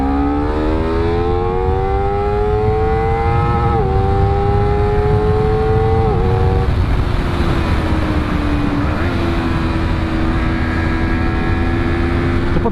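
A Honda CBR250RR SP motorcycle engine revs hard and climbs through the gears toward redline, loud and steady, with rising harmonic whine, brief shifts and a sustained high-rpm drone.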